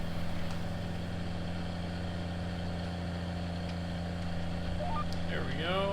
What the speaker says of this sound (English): let's get the tractor turned here